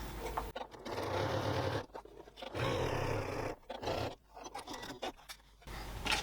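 A sewing machine fitted with a Microtex needle stitches waterproof canvas in several loud, steady runs broken by short pauses, with no one talking.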